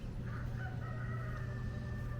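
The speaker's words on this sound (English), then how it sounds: "You hear the roosters crowing." Roosters crow across a rural roadside park near a memorial battlefield, the drawn-out calls faint and distant over a steady low background hum.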